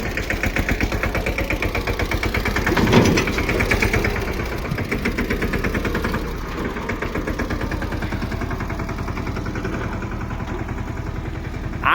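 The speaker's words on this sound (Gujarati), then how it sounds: "એટલે રણજીતભાઈ જોવો ટ્રેક્ટર જોડાવાનું કરે ને આ ટ્રોલી આપણે સાઈડમાં મૂકી દઈએ." A tractor engine idles steadily and loudly nearby while a trolley is being hitched, with a continuous low rumble and a brief louder rattle around the third second, alone without talk.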